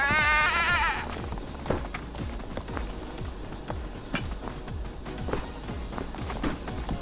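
Sheep bleat repeatedly in the video game Moving Out, a wavering, loud cry at the start followed by busy footsteps and scuffling game sounds.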